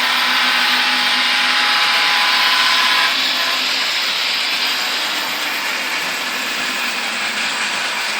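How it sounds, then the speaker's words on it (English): A model Amtrak train pulls away on an automated model railroad layout, producing a steady loud mechanical whir and rattle of motor and gears, continuous and close, with no voices. "Amtrak starts off, sets the turnout in its favour."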